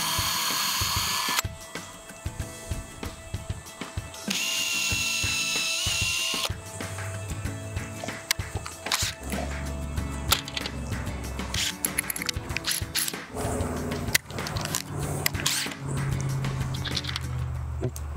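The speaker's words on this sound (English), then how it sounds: "drill two pilot holes" A power drill bores pilot holes for a camper table leg, with bursts of whirring and ratcheting clicks, tool handling and clatter up close, loud and mostly unbroken.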